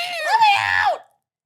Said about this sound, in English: You have a great scream.